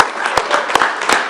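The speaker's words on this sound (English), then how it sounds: "Let's give Deborah another round of applause." A round of applause at a governor's event with New York City business leaders and district attorneys: a loud, steady wash of crowd clapping, with a few sharper individual claps standing out, for just over a second.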